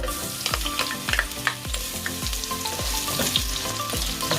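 Onions sautéing in cooking oil in a pan, a steady close sizzle with repeated stirring scrapes every half second or so, no talking.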